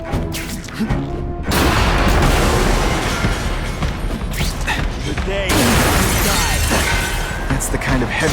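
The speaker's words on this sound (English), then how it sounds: "That's the kind of heavy artillery you see in a combat zone." Heavy artillery explodes in The Amazing Spider-Man 2 game, loud booming and shattering bursts in dense waves with brief lulls, mixed with crashing debris and mechanical combat noise.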